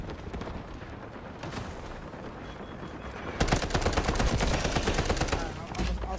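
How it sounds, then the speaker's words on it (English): An artillery barrage in the Apex Legends video game starts with distant rattling gunfire, then a dense, louder roar of blasts and crackling explosions takes over halfway through and continues to the end. "Artillery barrage incoming."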